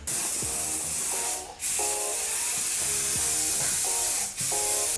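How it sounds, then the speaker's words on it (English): An aerosol can sprays a thick coat of paint onto a truck spoiler in long, loud, continuous hissing bursts with two brief breaks, close up and with no voices. "Coat number 2. The 4th coat, nice and thick."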